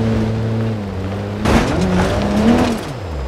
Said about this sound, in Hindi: ये टर्बो की आवाज आ रही है।